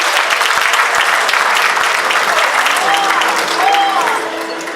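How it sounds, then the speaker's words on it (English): A crowd at an NAACP Freedom Fund Gala applauds steadily, a dense wash of clapping that stays loud throughout and eases slightly near the end. "Give her a round of applause."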